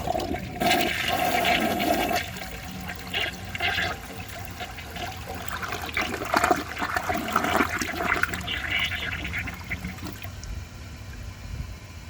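A 1990 Peerless concealed jet toilet flushes with a loud rushing surge of water, then settles into a long gurgling drain and trickling refill that continues to the end.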